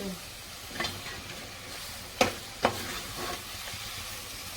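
Mutton sizzles quietly in a pan after a little water goes in, a soft, steady frying hiss broken by a few sharp metallic clinks of a utensil.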